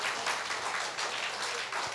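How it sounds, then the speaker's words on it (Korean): Church congregation applauding during a gospel revival service, a brief, moderately faint patter of clapping from the gathered crowd, even and continuous over two seconds. "한번 박수 보냅시다."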